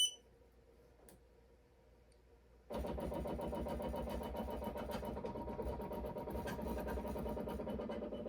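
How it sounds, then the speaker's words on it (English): A Ricoma EM-1010 embroidery machine traces a patch design outline: a quiet pause, then the motor starts abruptly and keeps up a rapid, steady mechanical ticking and whirring at close range. "you always trace when you're doing your embroidery to make sure that your needle does not hit your hoop"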